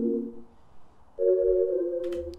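Clean, undistorted synth tone from a sample kit, heard as a soft, wet sustained chord that shifts to a brighter, louder held chord partway through, with a faint click near the end and no talking.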